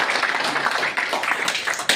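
Audience clapping at a library meeting, a dense patter of many hands filling the room steadily for two seconds, with no clear voices over it.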